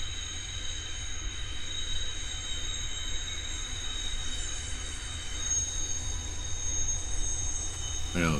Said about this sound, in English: is a train on the hill